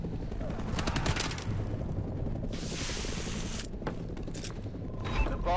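Video game gunfire in a bomb-planting shooter round, heard as bursts of shots over a steady mechanical background, with people talking over it.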